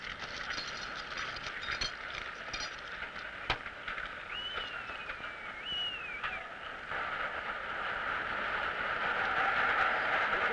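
A freight train carrying whale carcasses to a factory rumbles along the rails with a steady hiss, occasional sharp clanks, and one thin squeal of wheels rising above the noise.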